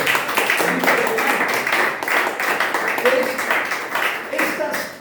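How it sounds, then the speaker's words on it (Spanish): A church congregation claps together, a fairly loud patter of many hands with a rhythmic pulse, while a voice speaks over the clapping. "¿Cuánto le damos un aplauso?"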